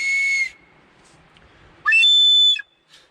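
Two short, bright blasts on a handmade whistle at a survival camp, each about half a second long, loud and close, with a quiet gap between them.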